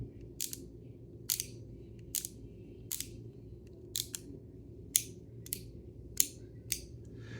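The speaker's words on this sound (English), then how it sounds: "let me get you guys to listen to these clicks because they're really nice" A TPOB Slime Candy fidget toy lever clicks into place again and again, about ten crisp, sharp clicks at an uneven pace against a quiet background.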